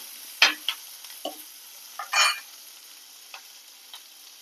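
A spatula scrapes and stirs leftover puttu into upma in a pan in short, irregular strokes over a steady faint sizzle of frying.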